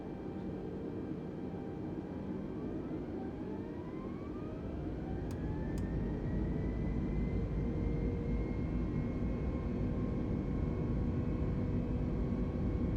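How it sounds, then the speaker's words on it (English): Airliner takeoff in a flight simulator game: a steady engine roar with rising whine tones spooling up and growing slightly louder, no talk. "Parking brake off. Crew in the cabin, prepare for takeoff."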